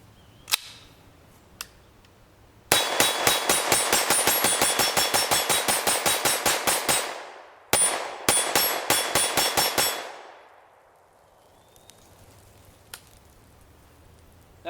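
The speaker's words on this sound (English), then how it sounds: "if you're shooting any kind of steel, that the targets are angled down" Rapid 9mm pistol fire with 94-grain frangible rounds at angled steel targets from about 15 feet, two long strings of sharp, evenly spaced loud cracks separated by a short pause, with a couple of isolated shots before.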